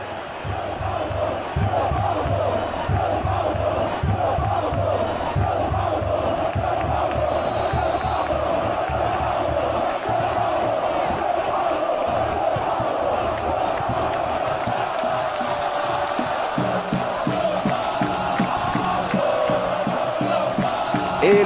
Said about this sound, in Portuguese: A torcida está muito feliz.